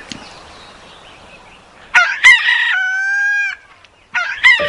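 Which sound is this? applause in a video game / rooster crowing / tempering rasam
rooster crowing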